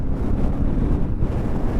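Strong wind buffets the microphone in a constant low roar and rumble while riding a Yamaha Tenere World Raid motorcycle, with no voices.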